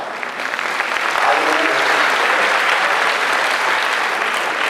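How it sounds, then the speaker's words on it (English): A young student audience at an institute address claps together, the applause swelling early and then holding as a broad, continuous roar of hands. "you are clapping for yourself"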